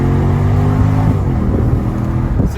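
A Mercedes SLK 55 AMG hardtop roadster's V8 engine roars loud and close, a deep rumbling rev that holds steady and then swells briefly near the end, with no voices.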